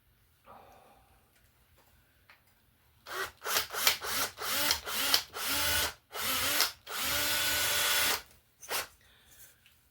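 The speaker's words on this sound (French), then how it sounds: "On va prendre une mèche un petit peu plus grosse." Drill with a larger bit boring a wire hole through a wooden bass guitar body toward the cavity, a run of short close whirring bursts followed by one longer continuous stretch, loud, with no talking.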